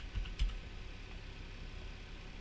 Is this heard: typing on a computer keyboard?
yes